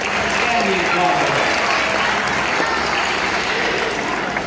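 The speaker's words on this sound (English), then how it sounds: "So let's give him a big round of applause for Tim Hefe, the Andean condor." An audience applauds at a bird show featuring an Andean condor, steady crowd clapping that is loud and sustained from start to finish.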